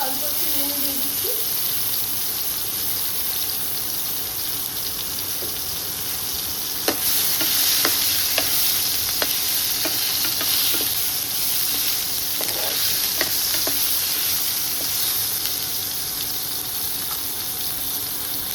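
Tomatoes softened with a pinch of salt sizzle alongside cabbage in a pan, a steady close hiss broken by sharp clicks and scrapes of a spatula stirring through the mix.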